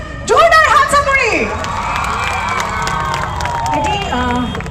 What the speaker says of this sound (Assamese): ঋষিৰ কাৰণে জোৰদাৰ হাত চাপৰি